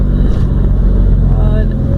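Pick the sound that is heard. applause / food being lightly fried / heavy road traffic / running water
heavy road traffic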